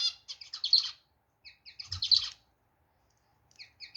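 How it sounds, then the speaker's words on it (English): Albino budgies chirp in quick, bright bursts of high twittering, three clusters spaced apart with short silences between, close and fairly soft, with no voices. "And these are the albino budgies."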